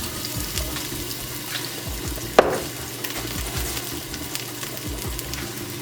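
Ginger, cloves and spices frying in avocado oil in a pot, a continuous moderate sizzle with a sharp clink partway through and light stirring noises, no speech.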